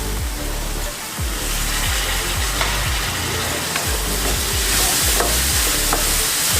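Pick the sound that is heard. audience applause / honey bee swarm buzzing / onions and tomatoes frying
onions and tomatoes frying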